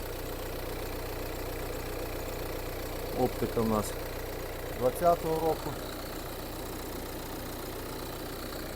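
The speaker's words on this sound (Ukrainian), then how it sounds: "Двигун працює ідеально" A 2020 Renault Trafic van engine idles steadily in the background while someone speaks briefly over it.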